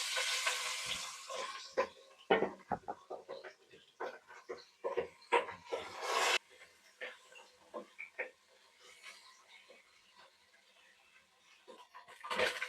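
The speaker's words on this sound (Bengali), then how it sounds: "এখন আমি মাছটি ভেজে নেব।" Fish fried in hot oil in a pan for a muri ghonto dish, a bright sizzle with bursts and clatter of stirring or turning, close and moderately loud, quieter toward the end.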